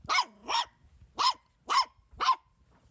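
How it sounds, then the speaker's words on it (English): A dog barks five times nearby, two quick barks, a pause, then three more evenly spaced. "I hear barking"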